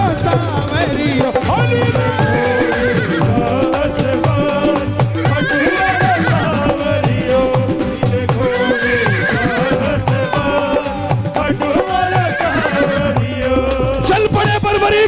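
Repeated horse neighs and whinnies ring out over continuous loud music, with a steady clip-clop of hooves underneath throughout.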